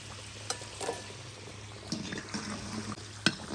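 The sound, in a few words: potatoes frying in a kazan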